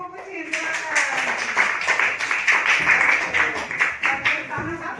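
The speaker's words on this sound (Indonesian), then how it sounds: "tepuk tangan untuk kelompok kucing" Applause from a class of fourth-grade students for the cat discussion group, a dense burst of many small hands clapping steadily for several seconds, close and fairly loud, with children's voices mixed in.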